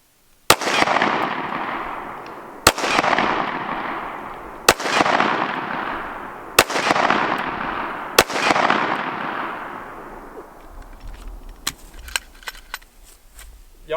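Gunshots at a gun class held on a farm, five sharp, evenly spaced shots each followed by a long rolling echo across open ground, then a few fainter pops, with voices faintly under it.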